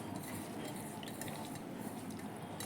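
Spices, salt and yogurt are stirred together in a bowl, giving a continuous soft wet scraping and clinking of a utensil against the dish, steady and close with no talk.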